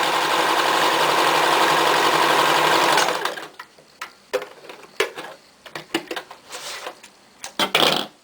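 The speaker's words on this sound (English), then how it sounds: "I'm just going to follow with the edge of the presser foot on the machine and just stitch a straight stitch" A sewing machine runs a straight seam in a fast, steady hum for about three seconds, then stops, leaving scattered light clicks and fabric handling noises close by.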